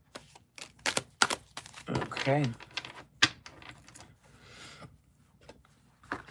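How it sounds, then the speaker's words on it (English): A deck of tarot cards is shuffled in a series of crisp taps and flicks, followed by a brief riffling rush; a voice speaks briefly between the card sounds. "One full shuffle."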